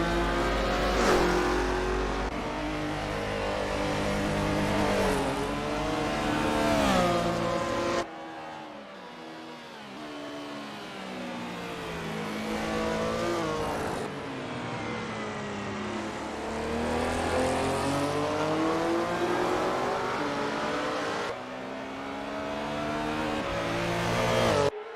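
A 1974 Porsche 911 race car in Assetto Corsa at the Montreal circuit, engine revving hard through rising and falling gear changes, loud and close, with a brief drop to a quieter drone before climbing again.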